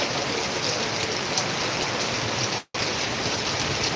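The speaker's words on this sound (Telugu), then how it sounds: "ఎమ్మెనూరులో భారీ వర్షం అందుకండి" Heavy rain pours down in Emmiganur, Kurnool district, Andhra Pradesh, a dense, steady hiss of falling water that fills the scene, broken once by a very brief dropout.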